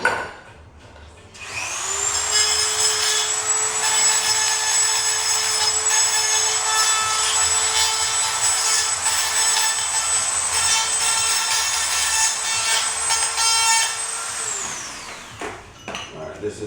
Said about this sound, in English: let me just grind it down while I have it here. And take away the sharp edge.